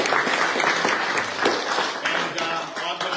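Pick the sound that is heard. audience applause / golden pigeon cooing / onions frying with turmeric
audience applause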